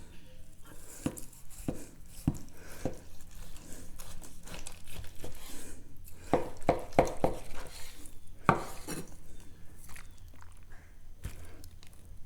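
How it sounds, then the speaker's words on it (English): Prime rib roast being sliced on a cutting board, a close series of irregular knife chops and clacks against the board, with small scraping and handling sounds between cuts. "Let's get it cut and just see how it looks"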